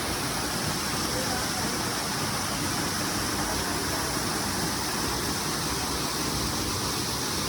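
Water pours over the ledge rock of Eagle Cliff Falls in the Finger Lakes, a close, dense and unbroken roar that stays level throughout with no pauses.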